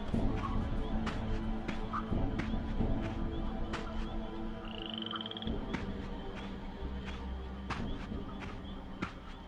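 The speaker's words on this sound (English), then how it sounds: "Frog. Happy frogs." Frogs croaking in a video game, with repeated croaks at an irregular pace over a low ambient game backdrop and faint footsteps, and no voices.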